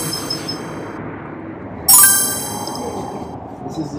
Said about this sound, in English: Here's another couple little bells.